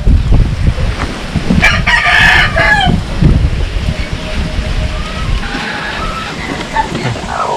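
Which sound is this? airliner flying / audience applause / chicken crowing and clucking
chicken crowing and clucking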